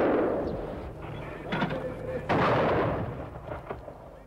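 Gunfire and artillery from fighting between Serbian forces and ethnic Albanian guerrillas in a village in Kosovo, with several heavy booming blasts and rumbling reports over a noisy, reverberant outdoor background.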